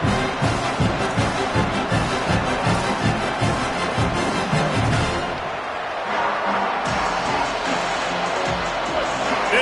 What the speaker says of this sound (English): crowd trying to make life miserable for this offense.